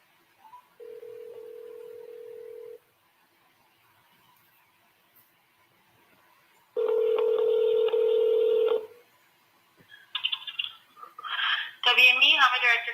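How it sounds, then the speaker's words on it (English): Steady telephone ringback tones sound on a call, one long buzz, a pause, then a second, followed by brief dialing beeps and a voice answering on the line. "Well, let me call Adam then."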